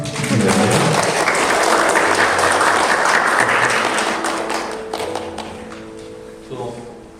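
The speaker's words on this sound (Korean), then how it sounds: "박수." A church congregation at a Korean Presbyterian Sunday service breaks into loud, dense applause that holds for several seconds, then tapers off into scattered claps and room noise.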